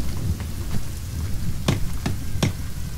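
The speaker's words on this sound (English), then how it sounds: "It's raining again." Steady rain in the video game The Forest patters continuously with a few sharper cracks and drips standing out, like drops hitting a hard surface nearby.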